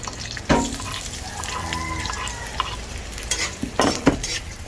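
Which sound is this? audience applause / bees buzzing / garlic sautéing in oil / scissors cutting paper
garlic sautéing in oil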